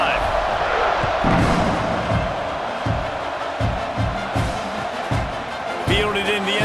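A stadium crowd roars through a football kickoff return, a broad, sustained wash of cheering with a commentator's voice talking over it and a brief sharp burst near the end.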